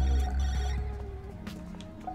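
A phone rings repeatedly in the video game High on Life, its steady tonal bell-like trill sounding over low game background rumble, with no talking.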